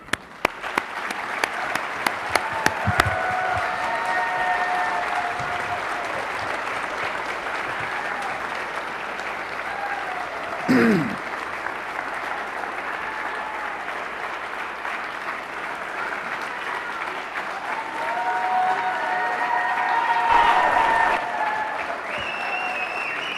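An audience in Brenau's Pearce Auditorium applauds as seven GOP Senate primary candidates walk onto the debate stage, sustained steady clapping filling the hall, with a brief swell near the middle and another toward the end.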